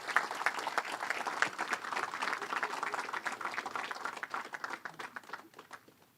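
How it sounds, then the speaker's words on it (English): A conference audience at a national strategic dialogue applauds to welcome the acting Prime Minister onto the stage, with sustained, dense clapping that gradually thins and fades out. "With a big round of applause,"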